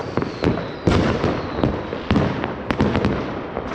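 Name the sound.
New Year's fireworks and firecrackers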